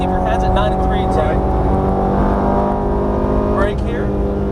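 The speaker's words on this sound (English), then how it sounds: "Now you can start squeezing the throttle, nice and gently there." A Ferrari F430 engine on a race track revs and pulls hard, its droning note climbing steadily, then dipping briefly as if for a gear change before rising again, loud and close from inside the car.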